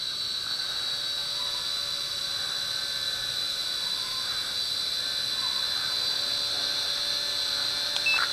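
A WLToys Q222G 5.8 GHz FPV toy quadcopter with altitude hold flies outdoors in a light breeze, its rotors giving a steady, thin, high-pitched whine at moderate volume with no talk.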